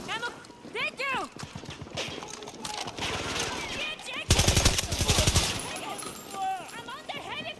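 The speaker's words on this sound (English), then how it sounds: "I'm under heavy fire!" Heavy gunfire in a Battlefield 2042 battle, a fast automatic burst up close among scattered shots and chaotic combat noise, with a voice calling out over it.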